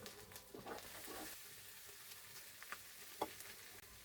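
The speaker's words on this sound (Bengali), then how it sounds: "এখন আমি আলুটা ভাজা ভাজা করে মশলাটা দিয়ে দিচ্ছি" Quiet, continuous sizzling of potatoes frying with spices in a pan for an egg and potato curry, with a few soft stirring clicks and no voices.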